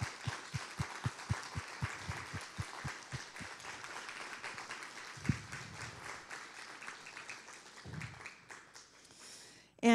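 An audience applauds at a recognition for Linda's many years of service, starting with steady, distinct claps close by that thin out into scattered, fading clapping, with some talking mixed in.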